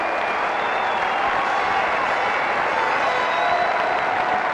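Cricket crowd at a New Zealand versus England Test in Auckland rising to applaud a quick fifty, dense steady clapping and cheering throughout.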